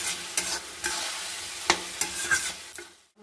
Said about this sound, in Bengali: তখন ভালো করে আমি এটা কষিয়ে নেব।